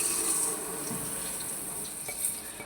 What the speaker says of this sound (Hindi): और इस चीनी को हल करने के लिए आधा कप दूध इसमें डालूँगी।